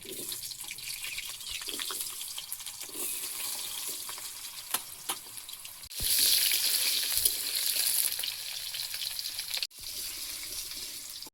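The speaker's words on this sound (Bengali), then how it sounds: "আলুটা ভাজা হচ্ছে" Potatoes frying in oil in a wok with black cumin, a steady close crackle and hiss that swells louder around the middle, with brief clatters of stirring.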